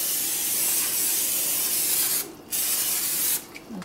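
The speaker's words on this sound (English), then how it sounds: "spray the cookie sheet" Cooking spray hisses in one long steady burst onto a cookie sheet for about two seconds. A brief second spritz follows near the end, with no talking.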